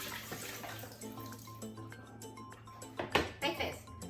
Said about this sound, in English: Let's drain the water.